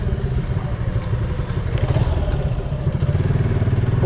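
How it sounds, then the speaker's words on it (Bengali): Loud Suzuki Gixxer 2019 motorcycle engine running steadily close by, a continuous low rumble with a slight rise in the middle, alone with no talk. "কিরে তোর বাইক এত লোক কেন?"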